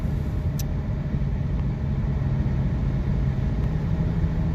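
A 2014 Mustang with a 3.7 V6 engine drones under a steady, loud, low cabin rumble while driving, with the engine note holding fairly even and no distinct revs or gear shifts standing out.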